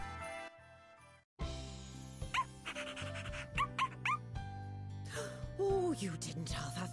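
Dog whimpering and yipping in the video game Bravely Default 2, a few high, wavering whines and short yelps over soft game music, moderately close, with a voice talking between them.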